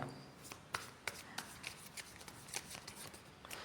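Tarot cards being shuffled by hand, a quick series of crisp riffling slaps and soft flicks, close and fairly quiet, with no talk over them.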